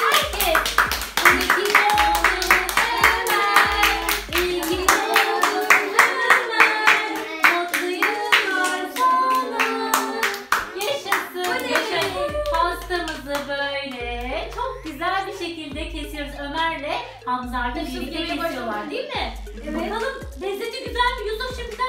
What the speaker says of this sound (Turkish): Alkışlayalım anneannesi, dedemi ve herkes.